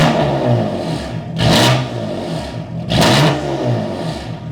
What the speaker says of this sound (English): the equal length system sounds good, but there's still a little bit of rasp